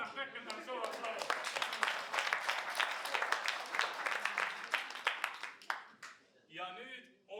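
An audience claps together in a continuous burst of applause lasting several seconds, then it thins out, and a voice speaks at the end.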